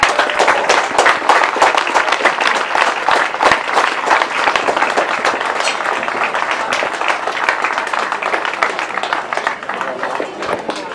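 A crowd at a European grasstrack solo semi-final applauds the race winners, with thick continuous clapping and sharp individual claps standing out, steady throughout amid crowd noise.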